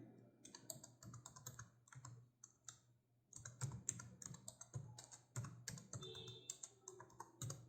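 Keys clatter on a computer keyboard during software entry, a quiet, close run of fast irregular taps with a brief pause midway and then steady typing, no voice heard.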